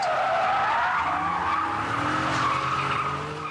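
Modified cars skid at a street car cruise, loud continuous tyre squeal with a rising and falling pitch over steady engine roar, close by and with no talk.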